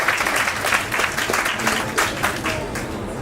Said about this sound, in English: So give yourselves a big round of applause for being here at such a major, important event.